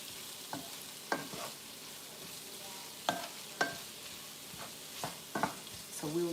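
A pack of sausages fries quietly in a pan, a soft steady sizzle broken by several scraping stirs of a utensil, close and faint, with no talking.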